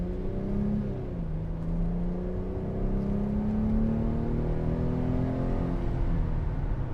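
A 2006 Mercedes-Benz SLK280 3.0 engine with 7G-Tronic automatic revs up, its pitch climbing steadily, then eases and rises again, close and continuous with no talking.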